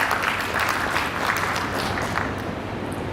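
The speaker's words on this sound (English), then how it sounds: "Let's give him another applause." Conference audience at a mining and energy gathering in a Kampala hotel gives sustained, dense applause, a steady wash of clapping with faint crowd murmur.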